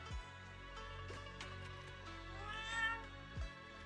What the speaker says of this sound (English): It looks over, meows triumphantly, and struts right past our feet.